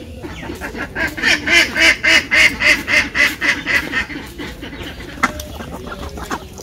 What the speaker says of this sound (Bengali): তো হাঁসগুলা ছাড়া হয়ে গেছে।